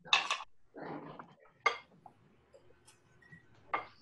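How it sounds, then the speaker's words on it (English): A knife rough-chops cilantro on a cutting board, giving a handful of separate sharp taps and scrapes spaced irregularly and close by, with quiet pauses between strokes. "So I'm gonna slice up this cilantro as well."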